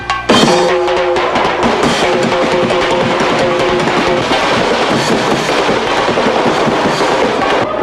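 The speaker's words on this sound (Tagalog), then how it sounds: "hindi kumpleto ang bagong taon kung walang putukan" New Year fireworks and firecrackers crackle and pop in dense, continuous volleys, loud and close, with rapid overlapping bangs throughout.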